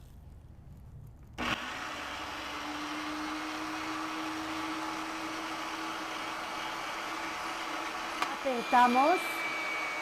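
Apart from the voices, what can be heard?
cookie dough machine running, extruding Moroccan biscuit dough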